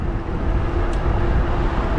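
Constant low, rumbling buffeting fills the whole stretch, a dense roar of winter wind battering a microphone on an e-bike ride, with no pauses.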